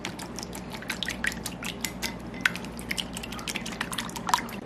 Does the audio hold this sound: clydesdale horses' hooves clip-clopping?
no